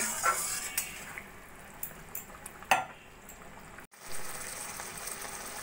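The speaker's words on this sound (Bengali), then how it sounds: "ঝোলটা ফুটে উঠেছে, এবার দিয়ে দেবো আমি ভেজে রাখা মাছগুলো" Fried fish pieces go into a pan of boiling curry gravy, giving faint bubbling with a few sharp clinks and splashes, one louder clatter midway, then a brief drop to near silence before a low simmer resumes.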